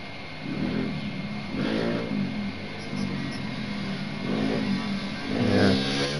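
Motorbikes passing outside a house, a mid-pitched engine drone rising and fading in several waves over a steady background, like repeated revving passes heard from indoors.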